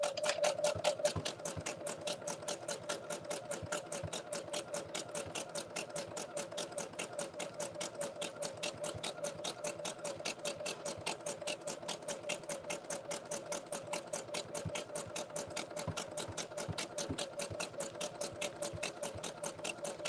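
A sewing machine runs steadily while coils of fabric rope are stitched together to make a bowl. Its rapid, even needle clatter goes on close up for twenty seconds with barely a pause and no voices.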